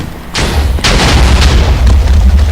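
Loud booming explosion in a zombie video game, a sharp blast followed by a second heavy burst and a sustained rumbling roar with deep low-end energy throughout.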